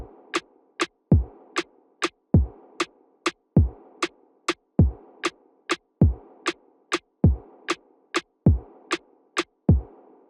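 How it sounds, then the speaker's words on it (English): A programmed beat layers a snare with a pitched rim shot. Crisp clicks and tonal hits repeat in a steady, tight pattern, dry and alone. "you get just a cool layered little sound that sounds something like this."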